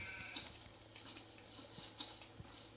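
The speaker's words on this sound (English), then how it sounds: "What's the sheep doing down here?" Sheep bleating in the Farming Simulator video game, faint and distant repeated bleats over a quiet, hissy background with soft pattering.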